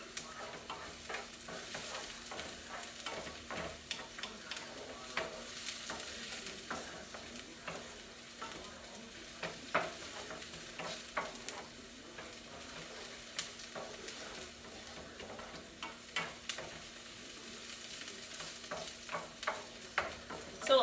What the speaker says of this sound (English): Alright, so I'm stirring this up here. Oh, these onions and this garlic smell so